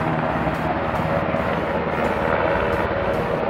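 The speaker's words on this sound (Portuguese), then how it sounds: "um helicóptero militar fazendo algum treinamento aí, ó, pertinho, pertinho da gente" A military helicopter flies close overhead on a training run, its steady rotor and turbine roar loud and continuous throughout, with a rhythmic blade chop pulsing through the high end.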